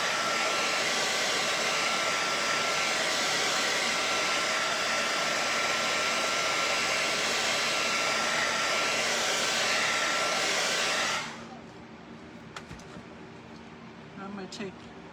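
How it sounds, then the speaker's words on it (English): A hot hair dryer drying the background of a painting blows in a loud, steady rush for about eleven seconds, then cuts off, leaving quiet room sound. "Nice hot dryer."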